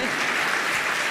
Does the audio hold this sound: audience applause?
yes